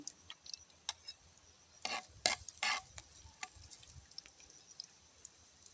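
Garlic dropped into hot cooking oil for adobong kangkong in a rural kitchen, faint crackling sizzle with a few louder bursts of stirring and scraping in the middle, quiet ticks and pops scattered around it.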